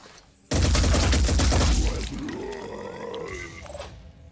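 A gun fires a rapid, loud burst in the video game Phoenix Point: Terror from the Void, lasting about a second and a half, followed by lower growling and rumbling creature-like sounds as the noise fades.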